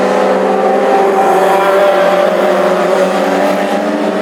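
Classic hot rod race cars roar past at an Irish Grand Prix final in Tipperary, a loud, steady engine drone with a harmonic whine and no pauses.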